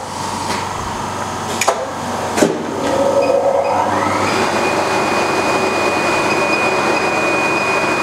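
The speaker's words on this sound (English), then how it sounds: "electric oscillation tool with creasing wheel to cut corrugated board" A JWEI digital cutter's electric oscillation tool with creasing wheel cuts E-flute corrugated board, starting with a few clicks, then a steady loud mechanical whir with a rising whine that holds for several seconds.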